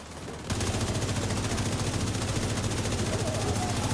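Dense, continuous in-game gunfire from a video game sniper rifle, a rapid rhythmic stream of shots that starts after half a second and keeps going steadily at moderate loudness.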